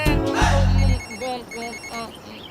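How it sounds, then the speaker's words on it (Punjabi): A telephone rings in a few electronic chirping bursts, loud and close, with a low hum underneath at the start. "ਲੈ ਜੈਲੀ ਦਾ ਫੋਨ ਹੈ"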